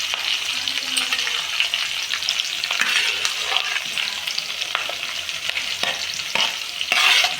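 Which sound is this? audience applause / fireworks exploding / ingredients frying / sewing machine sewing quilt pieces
ingredients frying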